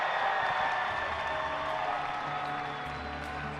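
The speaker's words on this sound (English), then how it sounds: "Please give one more round of applause to Shanice Palacios for her final walk" Audience applause for Miss Universe 2024 as the outgoing titleholder, Shanice Palacios of Nicaragua, makes her final walk: a steady, dense wash of clapping from a large crowd in a pageant hall, holding level for the whole stretch.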